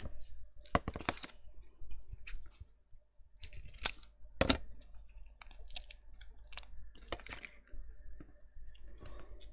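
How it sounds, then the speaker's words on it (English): Scissors snip into 3D foam pads for a papercraft Christmas project, several quick close crisp cuts in small bursts with pauses between, no talking. "Then I am going to have to snip into these."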